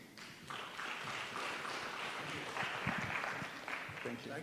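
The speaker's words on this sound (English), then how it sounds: "Give him another round of applause." An indoor workshop audience applauds a speaker, a steady patter of many hands clapping at moderate distance, fairly faint, with voices murmuring underneath.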